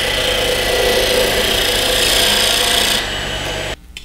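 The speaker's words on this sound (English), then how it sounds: "I just went ahead and just kind of reamed it out with the drill bit, make a little cone shape there" A drill bit reams a cone-shaped hole into turned wood for a kendama toy, giving a steady close rasping grind that runs for about three seconds, drops in level, then cuts off near the end.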